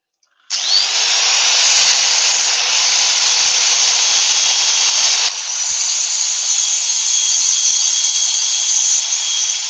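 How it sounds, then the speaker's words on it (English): An angle drill fitted with a sanding pad works over the surface of a freshly turned wooden bowl, a loud, steady high whine with abrasive rubbing that runs continuously, its pitch shifting partway through as the load changes. "it's an angle drill"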